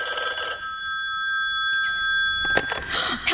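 Old-fashioned telephone bell ringing in a radio drama, a single clear burst of ringing at the start followed by quiet, then a handset clatter and brief rustling near the end.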